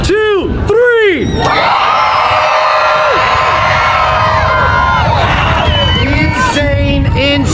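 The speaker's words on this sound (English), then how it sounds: "I want to hear you scream for the champion" A large monster truck show crowd at a speedway screams, whoops and cheers loudly and continuously for the champion at the Monster Mashers all-star championship finals, with shouts and a few higher children's voices rising above the roar.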